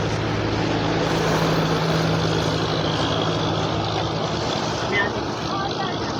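A passenger launch moving on a river near Chandpur, its low engine drone and steady hum running continuously under water and wind noise.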